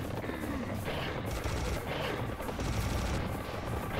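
A Gatling gun in Serious Sam HD fires a continuous, dense roar of rapid shots, loud and close for the whole stretch, with brief swells in intensity.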